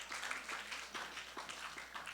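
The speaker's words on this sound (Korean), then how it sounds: "우리 박수로 환영해 주시기 바랍니다." A church congregation at a high school worship service claps in welcome, a moderate steady patter of many hands that sounds somewhat distant and roomy.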